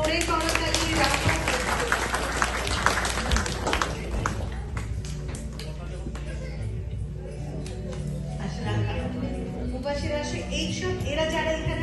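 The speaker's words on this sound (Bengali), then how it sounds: "সবাই প্লিজ রাফার জন্য একটা জোরে করতালি রাখো" An audience claps for Rafa at a book launch event, a dense burst of applause at the start that thins into scattered claps while a voice talks over it.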